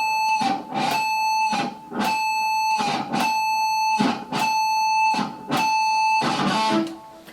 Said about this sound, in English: practice applying all the things that I just went over with you so far in this video to produce consistent sounding pinch harmonics